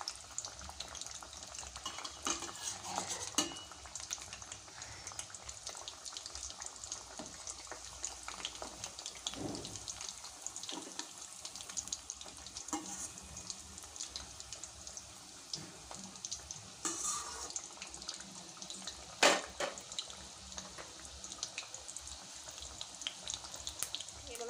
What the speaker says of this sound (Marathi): तर अशाच प्रकारे बाकीच्या करंज्या सुद्धा तुम्ही तळून घ्या.